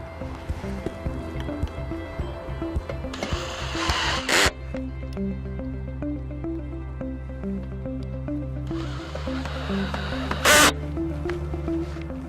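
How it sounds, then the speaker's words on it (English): Cordless drill set to a low clutch setting drives stainless steel screws to fasten brackets to posts on a Trex Signature deck stair railing. A steady motor whine hums close by, with two louder, harsher bursts as the screws bite. "Using your stainless steel screws provided, go ahead and fasten your brackets to your posts."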